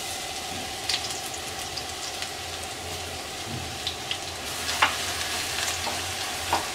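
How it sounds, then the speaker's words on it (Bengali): Chopped garlic and whole five-spice frying in oil for a jujube pickle, a soft steady sizzle with a few light taps and stirring clicks, fairly quiet throughout. "রসুনটা হালকা একটু ভেজে নেব।"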